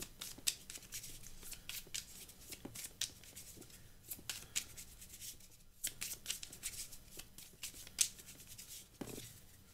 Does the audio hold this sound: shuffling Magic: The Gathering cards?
yes